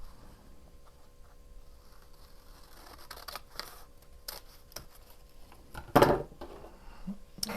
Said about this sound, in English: Now I'm going to come in here with some scissors and just cut this panel off.